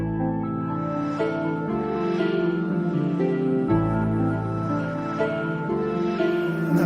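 Hip-hop beat with a high piano line over heavy bass and drums, playing loud and continuous with a steady rhythmic pulse and no voices.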